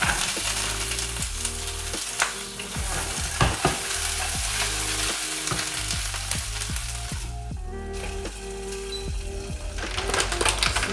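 Gyoza dumplings sizzle and crackle steadily in a hot pan, with occasional clinks and scrapes of cookware over the continuous frying noise.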